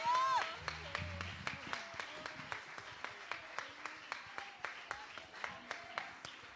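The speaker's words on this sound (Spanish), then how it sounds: "Hay que darle un gran aplauso fuerte al Señor." A church congregation claps in a steady rhythmic beat during a worship service, evenly spaced sharp claps repeating at a moderate tempo under a faint voice and some musical tones.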